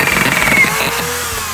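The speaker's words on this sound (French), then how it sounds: "Donc là, c'est une visseuse automatique." An automatic screw gun fed by a roll loader drives screws into roof tiles, giving a short, loud, close whirring motor burst that drops off into a lower hum.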